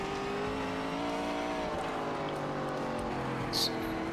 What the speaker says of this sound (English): stick it into fourth gear, let the torque of the engine do the work, not the horsepower